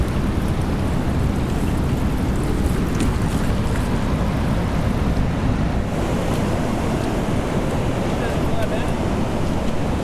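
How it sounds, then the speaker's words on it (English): Ocean waves crash and roar steadily on an Oregon beach below a cliff, a continuous loud surf wash with wind buffeting the microphone throughout. "Let's watch those waves crash."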